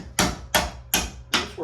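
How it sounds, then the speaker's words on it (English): Four sharp, evenly spaced hammer blows break up old tile on a set of basement stairs, each impact loud and close with a short rattling decay. "So get in under there and just try to break up some of this tile."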